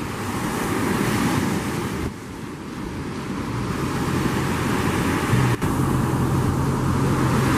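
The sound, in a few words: big ocean waves surging at St Lucia Estuary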